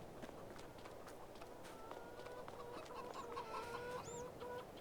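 Chickens cluck repeatedly in Farming Simulator 22, with steady, moderately loud bird calls over a constant low ambient farm hum.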